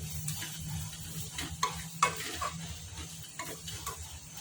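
Paneer and onions fry quietly in a pan with a soft sizzle, and a spoon scrapes and taps against the pan a few times in uneven, close strokes beneath a low steady hum.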